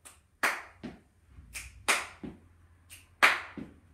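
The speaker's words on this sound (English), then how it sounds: "So it is click, clap, stomp." A click, clap, stomp sequence from a home PE workout, repeated in quick, even triplets of sharp hand and foot sounds, close and clear with no voices.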